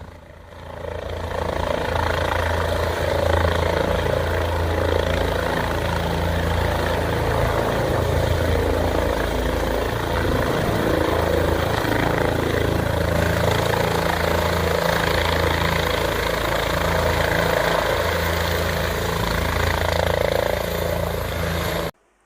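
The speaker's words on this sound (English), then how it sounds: "Got to watch a couple of helicopters coming and going." A couple of helicopters come and go overhead, giving a steady droning engine and rotor thrum, loud and sustained for about twenty seconds before cutting off abruptly, with no talking.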